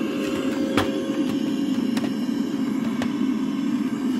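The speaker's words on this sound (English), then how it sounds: "the Hoover now sounds like it's a real Hoover" Recorded vacuum-cleaner drone played from a Bluetooth speaker inside a Henry Hoover toy, a steady rumbling hum throughout with a few faint clicks and knocks over it, close and without talking.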